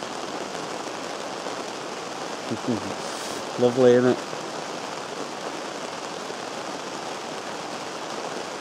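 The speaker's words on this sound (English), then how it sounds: "I just wanted you to hear the rain" Steady rain falls over a camp, a continuous even hiss throughout, with a brief spoken remark near the start and a short tonal sound in the middle.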